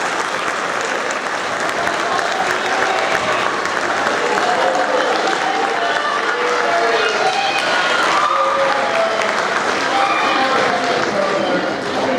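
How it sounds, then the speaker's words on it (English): Sustained applause from an audience fills a school's eighth grade awards ceremony, a steady, loud wash of clapping from many hands that holds for the whole stretch without pause. "Let's give them a round of applause."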